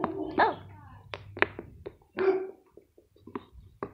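A dog barks in short, sharp bursts at a moderate distance, the barks spaced irregularly with quieter thumps and scuffs between them.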